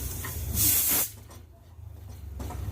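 A pressure cooker lets off a loud, close burst of steam hiss for about half a second during the cooking of Savji mutton, then fades to a low background rumble.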